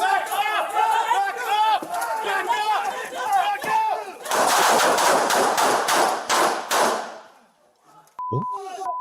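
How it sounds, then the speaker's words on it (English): A pepper ball launcher fires in a rapid string of sharp bursts in an indoor hallway amid crowd commotion, following shouting voices, before a quiet gap and a short tone. "pepper ball launcher too"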